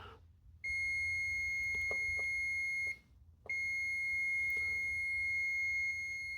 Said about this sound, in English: I got this on continuity checker, so it should beep.